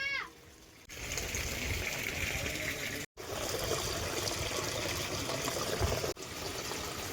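Water pours and splashes steadily into a homemade swimming pool, a continuous close rushing trickle broken by a few brief gaps, with no talking.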